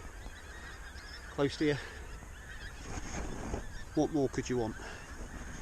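Pink-footed geese, over a thousand, honk in scattered bursts at a moderate distance over a steady outdoor hiss on a frosty morning, while a person speaks quietly nearby.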